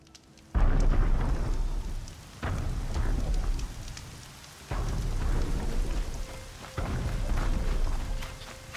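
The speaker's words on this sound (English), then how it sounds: "Oh great, this time it's raining." Heavy rain pours in the video game Horizon Zero Dawn while rolling thunder surges in repeated loud waves, each swell rumbling for a couple of seconds before easing back.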